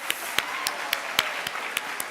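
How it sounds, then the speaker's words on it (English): Hands clap for teachers at a school academic awards ceremony, a sparse run of about eight sharp claps at a steady pace, close and fairly loud, over a soft room hush. "So let's give our teachers a round of applause."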